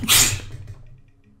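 A single close, sharp sneeze bursts out and then quickly fades into quiet room noise.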